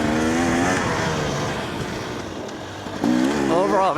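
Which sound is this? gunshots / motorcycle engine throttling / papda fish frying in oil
motorcycle engine throttling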